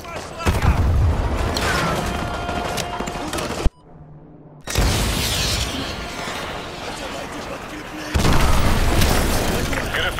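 An AGM missile strike on a BTR in Modern Warfare 2, with heavy booming explosions and roaring blast noise, a brief near-silent gap, then further loud rumbling impacts, with voices talking over the battle.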